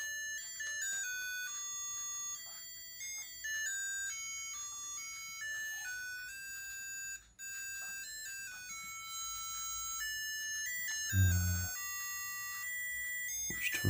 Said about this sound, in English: And that's our alarm going off.